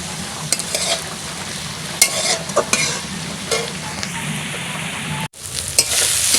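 Taro flowers and fish frying in a pan, a loud, close, continuous sizzle broken by several sharp scraping stirs of a utensil against the pan.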